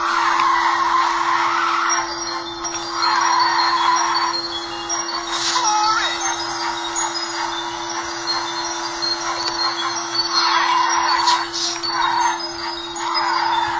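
Race car engine and tire skids from the Ridge Racer video game on PSP, a steady loud electronic engine drone with repeated squealing skid bursts across the run, no talk over it.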